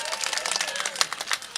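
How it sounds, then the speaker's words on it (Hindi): Audience applause and clapping at a Hindi-Urdu poetry recital (mushaira) by poet Hashim Firozabadi, a dense steady wash of many hands lasting under two seconds, with speech faintly mixed in. "एक बार जोरदार तालियां बजाकर मुझे बताएं मेरी शायरी आपका।"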